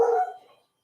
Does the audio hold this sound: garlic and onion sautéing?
no